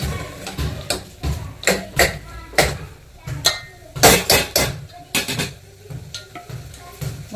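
Ingredients being sautéed and stirred in a pan for mutton kurma, with repeated scraping strokes and a light sizzle close by, while people talk in the background.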